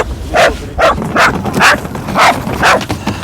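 A dog barks six times in a steady, evenly spaced run, close and loud, while being carried up on a moving belt lift in Dnipro.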